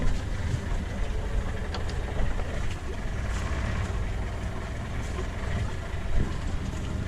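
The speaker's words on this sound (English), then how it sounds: "It's a motorboat." A motorboat running along a channel, with a steady, loud low engine drone and water and wind rushing throughout, close and continuous.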